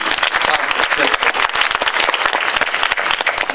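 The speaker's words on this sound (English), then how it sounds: "Would y'all help me applaud the CASA system?" A town hall audience claps steadily in dense, even applause, close and fairly loud, lasting throughout with no voices rising above it.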